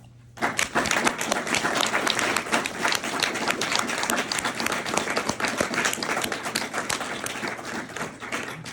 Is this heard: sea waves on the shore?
no